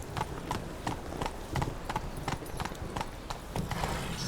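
Horse ridden through a city street in the video game Witcher 3, hooves clip-clopping in a steady, brisk walking rhythm, close and clear, with a faint voice barely present underneath.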